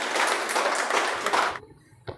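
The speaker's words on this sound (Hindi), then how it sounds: "तो एक बार जोरदार ताली बजाइए इनके लिए।" Audience clapping for Ravi sir, newly appointed Bihar police sub-inspector, at a felicitation gathering: dense, loud applause for about a second and a half, then cutting off abruptly, followed by a single faint clap.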